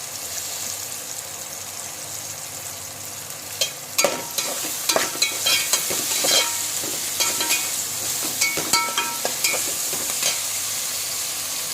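Dried shrimp sizzle and crackle steadily in oil, with bursts of stirring and scraping in the pan partway through. No one speaks.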